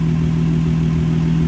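A Nissan Maxima engine, 2009-2014 model, idles close by after a serpentine belt change, a steady, loud low hum and even rumble throughout.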